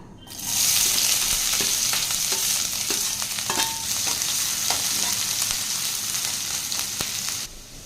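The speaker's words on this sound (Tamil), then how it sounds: "ஒரு பெரிய வெங்காயம் கட் பண்ணி வச்சுருக்கேங்க சேர்த்திக்கலாம்" Sliced onion sautéing in hot oil with cinnamon and bay leaf for an egg masala curry, a loud continuous sizzle and crackle with scattered spatula scrapes and taps close up, no voices.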